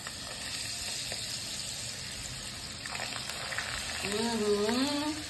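Small chana bara fritters sizzle and fry in hot oil, a steady bubbling hiss throughout, with a voice speaking briefly toward the end.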